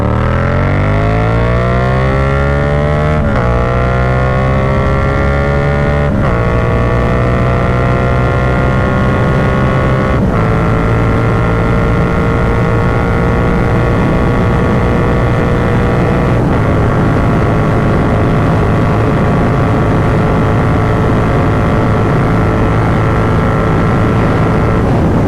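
A Yamaha MT-09 motorcycle accelerating hard while ridden, its engine note climbing through several gear shifts with rising whine and steady wind roar, loud and continuous for the whole stretch, with no voices.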